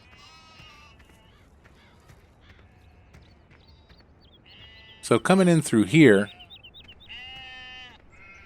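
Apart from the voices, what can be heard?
sheep bleating in pasture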